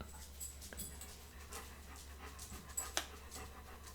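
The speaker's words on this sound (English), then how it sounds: "The dog is coming, and he's going to ruin this entire shoot" A dog pants softly nearby while padding around an indoor room, with faint jingles and a couple of sharper clicks or taps near the end; no speech.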